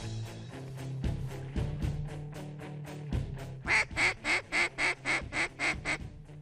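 Ducks calling during a duck hunt in Arkansas, a run of about nine loud, evenly spaced quacks coming close together in the second half over a steady low drone, with a few duller knocks earlier.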